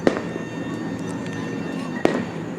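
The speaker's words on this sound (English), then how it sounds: "there's a fireworks ahead" Fireworks exploding ahead near a road, sharp booming bursts at the start, around two seconds in and at the end, over a steady rumbling background of traffic and crackle.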